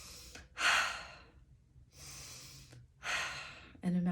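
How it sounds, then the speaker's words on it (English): Deep breathing during a chakra balancing breathwork session, with several slow, audible airy inhales and exhales close to the microphone, separated by short quiet gaps, and no words spoken. "Take a couple deep breaths in that."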